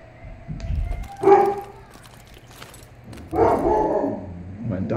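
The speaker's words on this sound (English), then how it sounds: "My dog is barking" A dog barks in two separate bursts, the first near one second and the second around three and a half seconds, moderately loud against quiet background noise.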